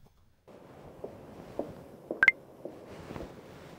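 A mobile phone gives a brief pair of sharp electronic beeps midway through a quiet indoor scene, with soft rustling and movement around it.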